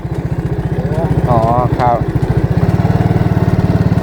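A small boat engine running steadily at a lake while out fishing, with a fast, even putter close by and someone speaking briefly over it.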